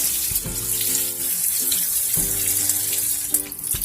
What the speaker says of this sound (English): I tested out my indoor shower for the first time.